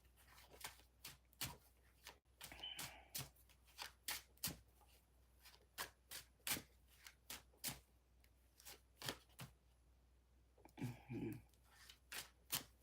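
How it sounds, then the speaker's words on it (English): Tarot cards are shuffled repeatedly in a steady run of crisp riffling bursts, close and fairly loud, with no speech over them. "I'm gonna stop shuffling that deck."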